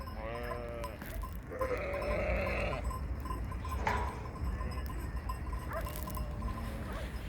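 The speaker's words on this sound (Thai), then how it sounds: "ต้องหยุดรอให้แกะไปให้หมดก่อน" Thousands of sheep bleat in overlapping waves as a huge flock fills a road in Italy, steady layered calls at varying distances over a constant crowd rumble.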